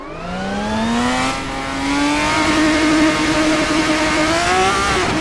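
A race car engine accelerates on the Silverstone circuit in the Assetto Corsa sim, a loud close whine climbing steadily in pitch with rich harmonics, revving continuously with no talk over it.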